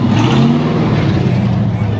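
A 1954 Chevy four-door sedan rolls into a classic car show at the Pomona swap meet, its engine a steady low rumble close by with a faint rising note, under ongoing crowd noise.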